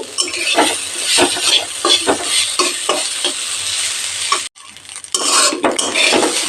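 Egg fried rice is stir-fried in a pan, with a spatula scraping and clinking against the metal in a steady rhythm over a constant sizzle. The noise drops out briefly, then resumes.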